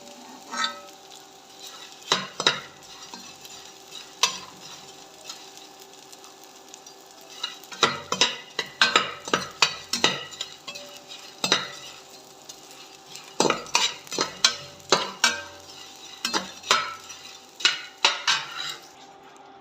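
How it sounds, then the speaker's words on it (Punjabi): Edible gum (gond) frying in oil in a pan for panjiri, with a steady soft sizzle under repeated metal scraping and stirring clatters of a spoon against the pan, close and fairly quiet, no talking. "ਲਓ ਜੀ ਆਪਣੀਆਂ ਗੁੰਦਾਂ ਵੀ ਫਰਾਈ ਹੋਣੀਆਂ ਸ਼ੁਰੂ ਹੋ ਗਈਆਂ"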